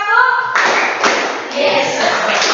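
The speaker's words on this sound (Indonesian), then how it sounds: "Tepuk tiga, dua, satu" A class of schoolchildren claps together on a teacher's count in a classroom, a dense burst of hand claps beginning about a half second in and continuing with a few accents, with young voices mixed in.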